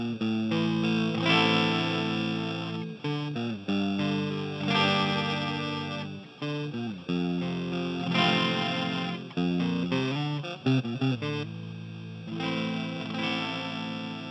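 Electric guitar fed through a Hotone Krush bitcrusher pedal producing a gritty 8-bit, video-game-like tone, a continuous melodic phrase with choppy stepped notes and brief gaps, played alone at steady volume.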